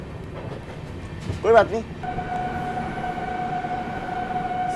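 Train running along the main line past Vatva railway station, a steady rumble with a brief horn-like tonal burst and a sustained whistle tone, a voice speaking briefly early on.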